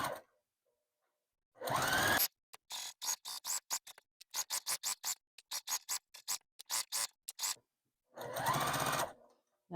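A sewing machine back stitches the seam of a fabric oven mitt, sounding in close, short mechanical bursts with gaps of silence, the longer runs coming at the start and near the end.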